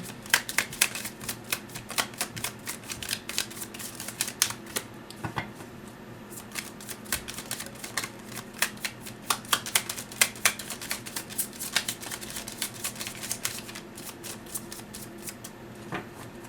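Tarot cards being shuffled by hand, a steady run of quick papery riffles and flicks, close and fairly busy for the whole stretch with no talking.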